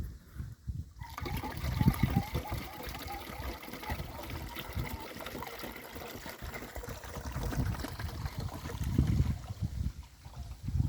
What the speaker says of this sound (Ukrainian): Потім бачок доливаємо водою.